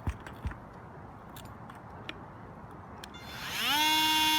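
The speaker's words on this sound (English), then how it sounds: "we'll take oscillating multi-tool" An oscillating multi-tool starts up near the end with a loud, steady high-pitched buzz, cutting a piece of roof ridge vent after some faint scattered handling clatter.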